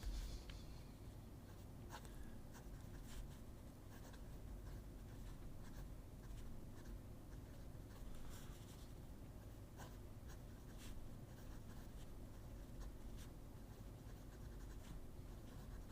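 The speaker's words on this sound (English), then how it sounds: "I wanted you to appreciate how quiet that pen really is" A fountain pen with an inlaid stub nib writes on paper, giving soft, faint scratchy strokes with brief pauses in a quiet room.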